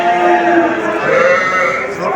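Goats bleat in overlapping, wavering cries, loud and close, with a busy crowd murmur of a livestock market in Çubuk, Ankara, underneath.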